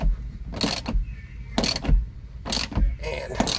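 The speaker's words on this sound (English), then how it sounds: "When you tighten it up with the ratchet, it will smash that" Ratchet wrench tightening the lock nut on a visor mounting bolt during a Trux 14-inch drop visor install on a truck, giving four short, evenly spaced bursts of clicking, close and moderately loud.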